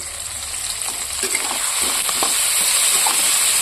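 Pieces of rupchanda fish fry in a pan with a steady, close sizzling hiss that swells slightly louder as it goes on, with no talking.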